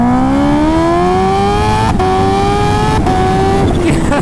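A 300hp turbocharged Suzuki Hayabusa motorcycle accelerating hard, its engine note climbing steadily with brief dips at gear shifts, loud and close with strong wind roar throughout.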